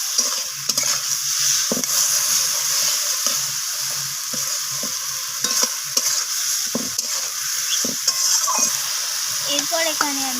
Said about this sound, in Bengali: তো সব কিছু মশলা আমি সিমের সাথে এইভাবে নাড়িয়ে চাড়িয়ে কষিয়ে নিচ্ছি।